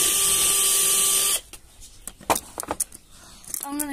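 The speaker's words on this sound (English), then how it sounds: "I'm just gonna keep on drilling." A power drill whirs steadily for over a second while driving a screw into a door lock, then stops, followed by scattered clicks and handling noises and a short rising whir at the end.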